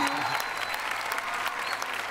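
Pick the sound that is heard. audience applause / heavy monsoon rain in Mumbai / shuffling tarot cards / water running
audience applause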